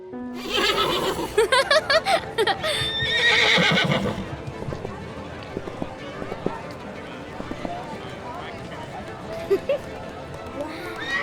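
A horse neighs loudly and shrilly in a long whinny, mixed with the clip-clop of hooves, before things settle into quieter movement with a voice speaking.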